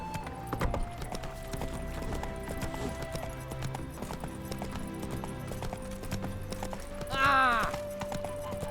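Roach, Geralt's horse in The Witcher 3, gallops with a steady clip-clop of hooves running throughout under a game music bed, with a short whinny near the end.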